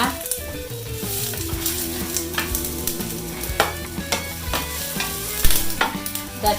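Onions sizzle steadily in a hot pan for a Filipino-style vegetable spring roll filling, with a utensil stirring and scraping in repeated close taps over the constant frying hiss.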